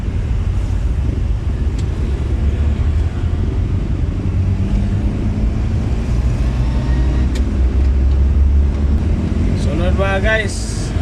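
Steady roar of road traffic heard from a moving vehicle on the way to Dumaguete, with constant wind buffeting and engine rumble throughout and a brief horn-like warble near the end.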